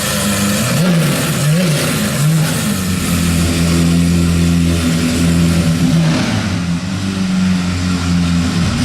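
A loud Lamborghini SV sports car engine revs and rumbles steadily, close by, its pitch rising and falling throughout.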